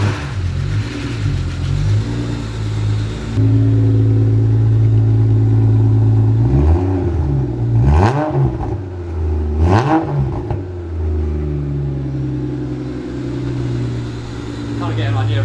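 A Subaru SVX flat-six engine idles with a low steady hum, then revs up sharply twice before settling back, while people talk nearby.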